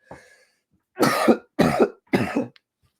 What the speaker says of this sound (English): I was hoping I would be able to hold off the coughs until I got done recording